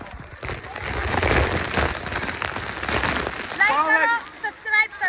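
Heavy rain beats down in a noisy, broadband wash at a water park, with a voice speaking over it toward the end.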